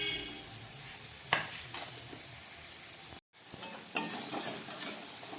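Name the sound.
frying cumin, coriander and chili powder spices in pan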